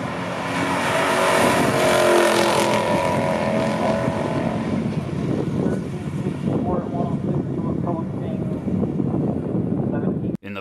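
A 1970 Ford Torino Super Cobra Jet and a 1969 Chevrolet Camaro SS in a stock drag race, a loud roaring engine drone that slowly fades into the distance, with an announcer talking over it.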